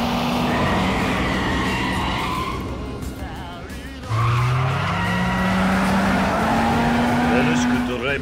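A car drifting in Yakuza 5 Remastered, with loud, sustained tire squeal and skidding over a steady engine roar, rising and shifting pitch as the slide continues close up.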